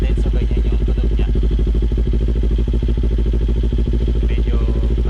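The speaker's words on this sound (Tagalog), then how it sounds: "idle lang yung motor natin, so ganyan yung tunog niya" Kawasaki Ninja 400 motorcycle with an aftermarket Orion exhaust pipe idling close by, a loud, steady low rumble with a rapid even pulse and light mechanical clatter throughout.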